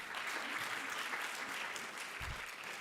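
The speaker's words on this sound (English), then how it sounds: "That deserves a big round of applause." An audience at an awards celebration breaks into steady, dense applause, many hands clapping together in a continuous wash with no voices over it.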